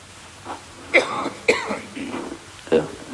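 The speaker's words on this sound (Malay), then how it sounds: "ni batuk ni bukan tanda-tanda simptom-simptom ni" A few sharp, close coughs break out among quiet speech, spaced irregularly over a few seconds.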